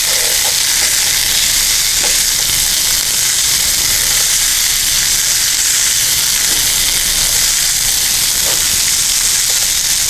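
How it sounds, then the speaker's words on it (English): Green bell peppers with a seasoning blend sizzle loudly and steadily in a hot pan, with a constant hissing crackle and occasional stirring clinks close by. "We're going to be putting our nice seasoning blend over the top and allowing this to cook down."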